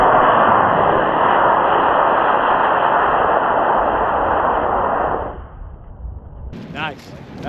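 A very light model rocket with a B6 motor launches on its first flight, a loud steady rushing roar lasting about five seconds before cutting off, followed by quieter outdoor sounds and faint voices.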